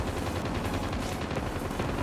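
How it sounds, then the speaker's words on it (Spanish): Light machine gun fire in the mobile shooter Call of Duty Mobile: a loud, dense, continuous burst of rapid automatic shots with no pauses, close and unbroken throughout. "porque ha sido una... una ametralladora ligera"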